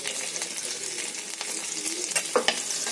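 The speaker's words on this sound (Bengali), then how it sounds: "রসুনটা ফ্রাই হয়ে গেছে" Chopped garlic fries in oil for a Bengali corn dish, giving a dense, continuous sizzle with a few light stirring scrapes near the end.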